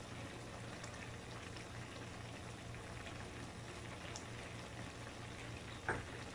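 Pancit noodles with soy and oyster sauce sauteing in a watery pan, a steady soft bubbling sizzle, quiet and continuous with a faint clink near the end.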